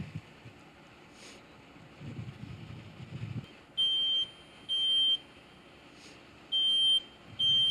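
A smoke alarm sounds in a dorm room fire demonstration, four loud, sharp electronic beeps, each about a second long, over faint wind-like rushing noise.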